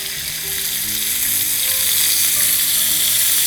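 Oil sizzles and crackles steadily in a pan for a grilled chicken iftar dish cooked in Pusti fortified soybean oil, a dense hiss holding even and fairly loud throughout with no voices.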